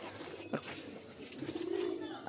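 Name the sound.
pigeons cooing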